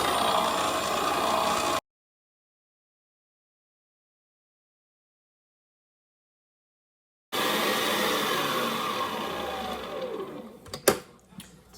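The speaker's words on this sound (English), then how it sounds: "Then we're just going to sit down and turn it on and mix." An electric mixer whirs steadily while beating cream cheese with powdered sugar, a constant buzzing motor drone that cuts out for several seconds, then resumes and winds down with a few clunks.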